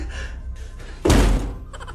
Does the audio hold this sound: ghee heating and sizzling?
no